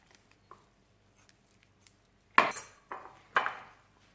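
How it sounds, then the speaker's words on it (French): A knife pricking meat to keep it from tearing gives three sharp, close stabbing thuds with a short scrape after each, near the end, after a few faint ticks. "Juste, je pique un peu pour ne pas déchirer la viande."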